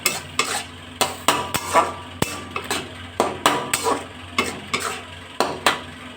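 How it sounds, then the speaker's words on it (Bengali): A spoon scrapes and stirs oil-free tomato chutney in a pan on a gas stove in a quick, repeated rhythm of close metallic strokes over a faint sizzle. "এই অবস্থায় আমি গ্যাসের ফ্লেমটা বাড়িয়েই রেখেছি মাঝে মাঝে একটু এরকম করে নাড়াচাড়া করে দেবো"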